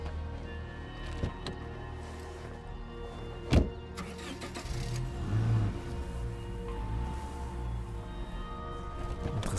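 A car engine in State of Decay 2 starts and then drives, a steady mid-pitched motor running at moderate loudness after a sharp starting burst, with no talk over it.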